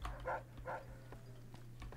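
A robot dog barks in Fallout New Vegas, two short low-pitched yaps close together near the start, followed by softer clicking game sounds.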